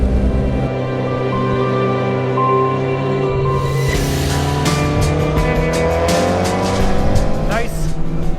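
A Mitsubishi Lancer Evolution IX MR race car on a warm-up lap at Mid-Ohio during a time attack event: a loud, close, sustained engine roar that climbs and drops through gear changes, with rising revs toward the end.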